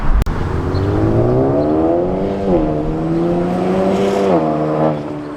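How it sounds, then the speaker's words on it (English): A 2018-or-newer Honda Accord with a DC Sports aftermarket exhaust drives past, its engine pulling steadily and shifting gears twice, with the exhaust note swelling close by as it passes. "time for a quick little drive-by"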